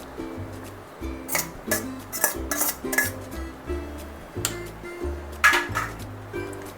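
Metal spoon clinking and scraping against a bowl while cooled barnyard millet rice is mixed into curd, a series of irregular taps and scrapes up close, with no talking.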